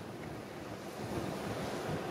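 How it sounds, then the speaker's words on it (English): Choppy Thames estuary water splashes and churns under steady, blustery wind buffeting the microphone, a continuous rough wash with no voices. "it's really choppy and windy"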